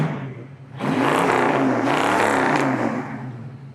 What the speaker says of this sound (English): Dual exhaust sounds really good.